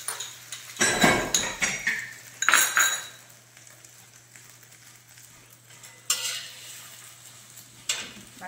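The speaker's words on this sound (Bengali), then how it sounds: "এটা বাটার দিয়ে ভাজা হয়েছে তো খুব সুন্দর সেন্ট বেরিয়েছে।" Egg and bread frying in butter in a pan sizzle softly beneath a few loud bursts of a utensil scraping and clinking against the pan, with quieter gaps between.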